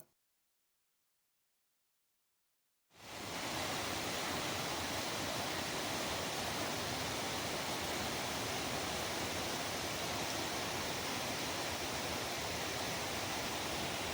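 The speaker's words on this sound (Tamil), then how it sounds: "ஃபைனலி நம்ம இந்த சின்ன கல்லாறு வாட்டர் ஃபால்ஸை பார்த்துட்டோம்" Chinna Kallar waterfall in Valparai roaring in a dense, steady rush of falling water that starts abruptly after a few seconds of silence and continues unbroken.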